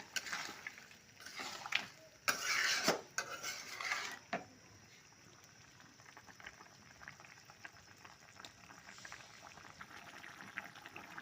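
Potatoes boil in a pot on a gas stove. A few loud clinks of utensils against the pot open the scene, then a low steady bubbling simmer runs underneath.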